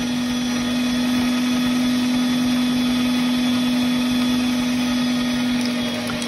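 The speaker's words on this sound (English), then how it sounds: "I'm just going to start grinding it all together" An electric meat grinder grinding deer meat, a loud continuous motor whine and hum running steadily throughout without pause.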